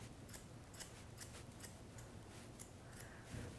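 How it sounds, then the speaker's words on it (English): Scissors point cutting a woman's hair: a rapid run of close, quiet metallic snips, steady and repetitive, with no talk. "I'm just going to point cut in here."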